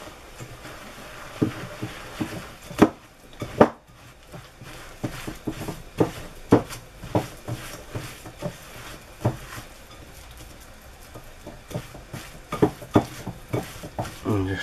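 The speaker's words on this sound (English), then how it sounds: "we're just gonna add all our dry ingredients straight in" Dry ingredients tipped straight into a whisked oatmeal raisin cookie batter in a bowl, with repeated clinks and taps of a utensil against the bowl and soft stirring scrapes, close by and uneven in rhythm.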